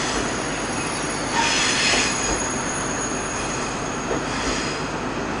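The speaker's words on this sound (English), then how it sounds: "Eurostar Class 373, TGV TMST, also known as the E300." Eurostar Class 373 (TGV TMST) in old livery arriving from Brussels Midi at London St Pancras, a loud steady rumble of rolling wheels with high squeals rising and fading across the train's approach.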